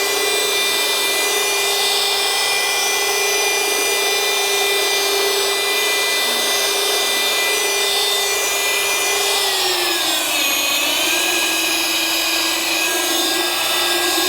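A Rupes LHR19E rotary polisher runs with a steady, loud motor whine throughout, and its pitch drops noticeably partway through as the speed is eased down.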